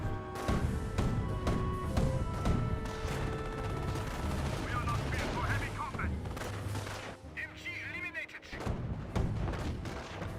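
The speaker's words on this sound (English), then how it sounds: "M180 gun firing away" M180 gun firing in the Company of Heroes battle game, repeated heavy booming shots in a loose rhythm over a busy combat soundscape with mechanical clatter, while someone talks over it.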